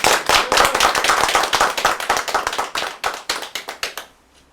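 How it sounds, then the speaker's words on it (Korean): A small group claps together at a party meeting in a new Yeongdeungpo office, brisk rhythmic clapping that gradually thins into a few separate claps before stopping. "먼저 우리 영등포 당사 시대를 자축하는 의미에서 큰 박수 한번 치자."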